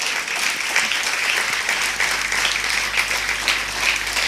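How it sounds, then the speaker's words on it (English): Audience applause for a guest speaker, Dr. B.M. Hegde, at a talk on spirituality and healing; steady, dense clapping fills the room throughout without a break. "Please give me a big round of applause for Dr."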